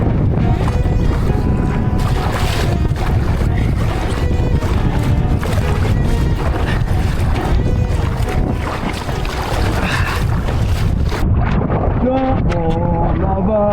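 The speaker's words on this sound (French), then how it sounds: "Il y a tellement de vent." Strong wind buffets the microphone while paddling a small boat on the Rhône river, a loud continuous roaring rumble with water splashing, and people talk over it throughout.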